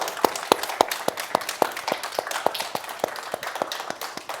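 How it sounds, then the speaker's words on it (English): Sparse, evenly spaced claps from an audience at a distinguished fellowship keynote event, about fifteen distinct hand claps in steady rhythm over a few seconds, moderately close and without talk, more like a few people clapping than full applause. "Give you another round of applause."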